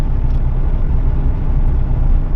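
A car pulling away from a parking spot, with a loud, steady low engine rumble close by and no voices.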